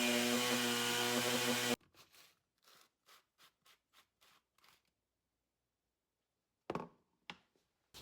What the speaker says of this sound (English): And now you're going to give that a blend.